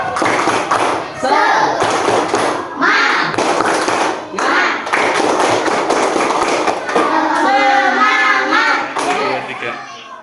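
A class of schoolchildren follows their teacher's count in a rhythmic 'tepuk semangat' clapping chant, with loud group claps and thuds in a patterned beat mixed with chanted children's voices, close and lively throughout.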